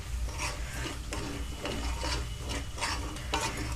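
A spoon stirs plain salt and black salt into a chilli and tamarind pickle, making soft scraping, rasping strokes that repeat in an uneven rhythm, close by and fairly quiet, with no voices.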